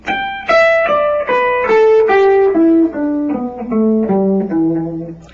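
A distorted electric guitar runs down a pentatonic scale in groups of five notes, a cascade of quick picked notes descending in sequence, close and loud with no voice over it.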